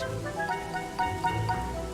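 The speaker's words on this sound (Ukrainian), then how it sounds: "Ось чому тут так дощить." Steady cartoon rain falls as a continuous watery patter, moderately loud and close, with faint tonal music or ambience underneath and no speech.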